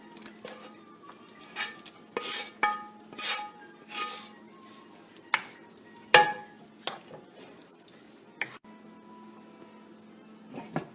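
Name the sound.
cooked chicken being added to gravy in a pan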